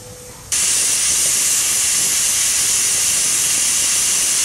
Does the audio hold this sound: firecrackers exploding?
no